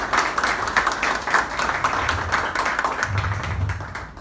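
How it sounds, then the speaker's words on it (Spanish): Clapping from a ceremony audience opening the Ica table grape export season, a brisk patter of hands that stays fairly even before tapering off at the end. "Los aplausos para él."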